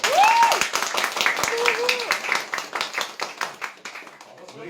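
Audience clapping for a singer on a talk show at a Curitiba studio, a close, loud burst of individual hand claps from a small crowd that thins out gradually, with whoops and voices mixed in.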